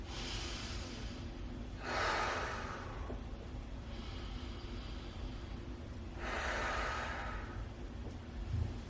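Slow, deep yoga breaths during a relaxing flow, two long airy exhales swelling and fading about four seconds apart, close and alone over a low steady room hum.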